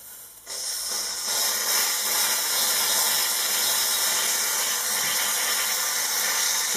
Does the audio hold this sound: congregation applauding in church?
no